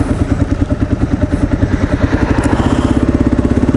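A Kawasaki KLR motorcycle engine is ridden on a road commute, giving a loud, close, rapid and even thumping beat that holds steady throughout with a slight rattle and no talk.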